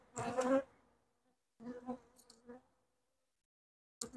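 Honeybees at a hive buzzing right against the microphone, in short, loud, close bursts separated by near-silent gaps.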